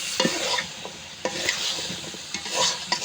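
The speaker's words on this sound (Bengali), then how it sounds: "বাসা মশলার মধ্যে কষিয়ে নিচ্ছি" Spice masala being stirred and fried in a pan for a dish with komor fish and jackfruit seeds, with steady scraping strokes over a soft sizzle, close and moderately quiet.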